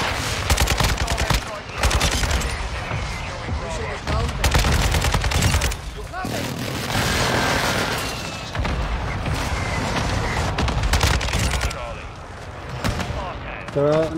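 Heavy turret machine-gun fire in Call of Duty: Modern Warfare II rattles on continuously at close range, with booming impacts mixed into the barrage and a voice speaking faintly beneath it.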